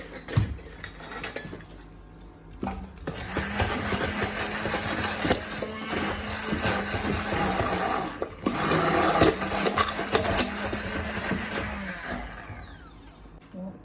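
A blender mixes poppy powder into a red colorant for cold-process soap. Its whirring motor runs loud and steady for several seconds, with clinks and rattles at the start and a fading spin-down at the end.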